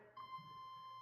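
A car door alarm inside a Malibu starts after a brief pause and becomes a steady, quiet, high electronic tone that holds to the end.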